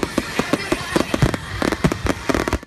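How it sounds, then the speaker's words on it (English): Fourth of July fireworks and firecrackers pop and crackle in rapid, irregular bursts, loud and dense throughout the short stretch, with no voices over them. "Local veterans like Steve Baird may get triggered by 4th of July fireworks."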